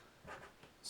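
Pen or marker writing numbers by hand during a place value lesson, heard as a few soft, faint scratchy strokes in a quiet room.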